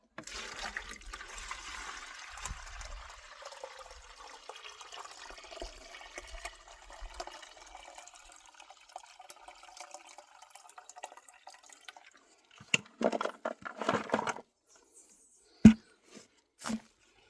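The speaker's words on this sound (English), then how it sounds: "I'll add some water to it" Water pours steadily into a garden soil mixture, a soft continuous trickle that fades out, followed by a few louder splashes and knocks near the end.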